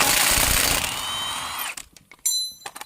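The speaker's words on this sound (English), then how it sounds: "If you're using a impact like this, an 18 volt Milwaukee impact, I've got it in the description, and a 19 millimeter socket." An 18-volt Milwaukee impact wrench with a 19 mm socket works on the lug nuts of a Honda HR-V, giving a loud, dense burst of hammering for under two seconds, followed by sharp metallic clicks and clatter.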